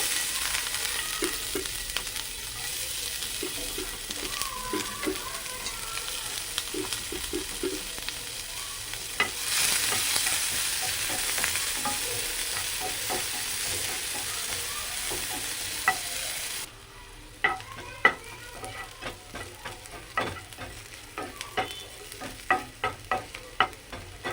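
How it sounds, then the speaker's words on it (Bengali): Chopped onions sizzle in hot oil, a dense crackling hiss that drops midway, followed by scraping stirs and spatters. "তেল গরম হয়ে গেছে পেঁয়াজের কুচিগুলো দিয়ে দিব"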